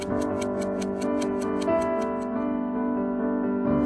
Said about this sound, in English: How many 6 and 7 o'clocks as it eats up our time with a tick and a tock.